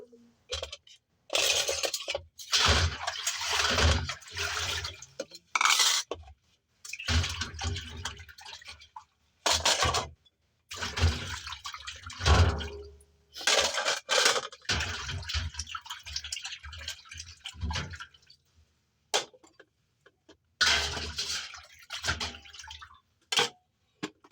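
Water splashes and drips in bursts while dishes or items are rinsed and washed, with short pauses between runs of noisy, broadband spattering close by.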